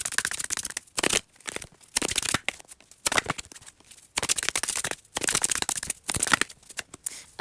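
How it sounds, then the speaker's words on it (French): Tarot cards riffle-shuffled in repeated bursts, each a dense crisp flutter of card edges separated by brief pauses, close and fairly loud, with no talking. "Je vais déjà tirer toutes les cartes"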